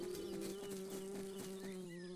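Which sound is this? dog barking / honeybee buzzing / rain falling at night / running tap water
honeybee buzzing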